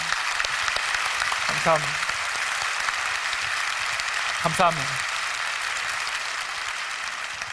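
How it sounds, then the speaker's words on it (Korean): An audience at a Christian prayer meeting applauds the staff of a disability organisation, a steady wash of clapping throughout while someone briefly says thanks twice. "여러분 박수 한번 보내주시면 큰 힘이 될 것 같습니다"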